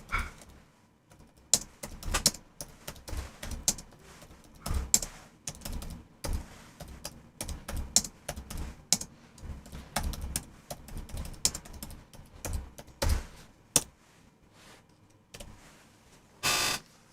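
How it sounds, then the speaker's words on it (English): Computer keyboard typing in irregular bursts of close, crisp key clicks with short pauses between runs, and a single sharper burst near the end. "let me just type this real quick"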